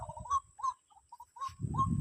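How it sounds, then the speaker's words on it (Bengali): A bird outdoors gives a run of short, clear, repeated calls close by, with brief pauses between them and a burst of rustling near the end. "কি পাখি ডাকছে"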